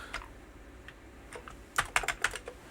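Keys clacking on an Amiga 1200 computer keyboard, a short quiet burst of close typing with a few scattered taps followed by a quick cluster of louder keystrokes, no talking.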